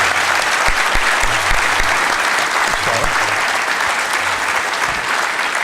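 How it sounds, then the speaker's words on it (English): Conference audience at an executive leadership summit gives panel members a sustained round of applause, a dense, even wash of clapping from many hands with a faint low murmur beneath. "How about a nice round of applause for our distinguished panel members?"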